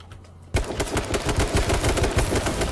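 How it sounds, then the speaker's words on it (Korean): Rapid bursts of automatic gunfire in the video game H1Z1 rattle loudly after a short quiet start, the shots coming in a fast, steady stream. "아, 진짜 빨리 쏘네, 총. 총을 어떻게 저렇게 빨리 쏘지?"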